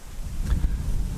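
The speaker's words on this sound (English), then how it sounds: "Just excuse the wind, it suddenly turned really windy." Gusty wind buffeting a microphone outdoors at Boughton Fen nature reserve, a steady low rumbling roar with a couple of sharper thumps, no speech.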